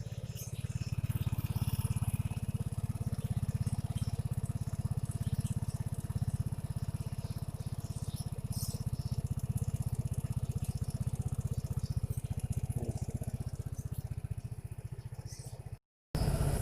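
A 2020 Vespa Sprint iGet ABS scooter engine runs at a steady, low idle, close by. The rumble is even and continuous and cuts out briefly near the end.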